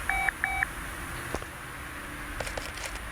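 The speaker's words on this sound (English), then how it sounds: "That phone you hear is just me letting me know there's new job orders" Electronic ringing from a phone signalling new job orders in the Car Mechanic Simulator game: two short, even tone bursts close together at the start, followed by near-quiet with faint scattered clicks.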